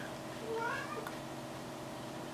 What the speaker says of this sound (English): Sorry about my cats.